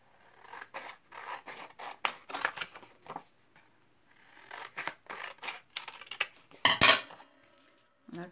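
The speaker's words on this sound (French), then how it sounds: "ici, je vais venir couper un carré, là" Scissors snip through paper card stock while a square is cut out for a handmade greeting card, a run of close, crisp, irregular cuts with brief pauses and a louder rustle of paper near the end.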